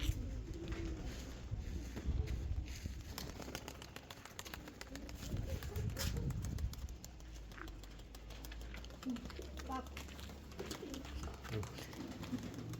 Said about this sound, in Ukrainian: Красивий голуб.